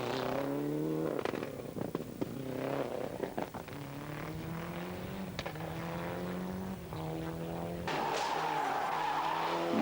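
A rally car at Rally Madeira 1995 skids and slides through corners, tires squealing repeatedly over a loud, shifting engine note that rises and falls in pitch with several sharp transients.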